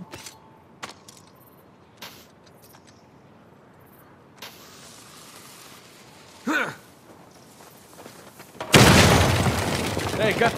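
Dynamite blasts a door open in the video game Uncharted 4, a sudden loud, sustained roar of explosion and debris after scattered quiet clicks, thuds and a brief voice-like sound.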